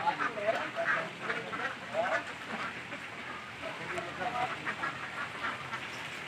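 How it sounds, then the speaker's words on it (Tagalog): Ducks quacking at a fishpond, a cluster of nasal calls rising near the start and recurring through steady outdoor background, with people talking over them. "Saka meron ditong mga itik."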